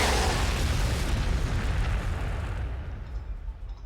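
Frag grenades explode in the Warhammer 40,000: Sanctus Reach video game, a loud, dense blast of booming noise that slowly fades.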